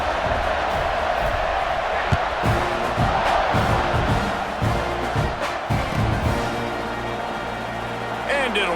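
Stadium crowd in the EA Sports College Football 26 video game roars and chants continuously at a kickoff, a loud sustained wall of cheering with a commentator talking over it.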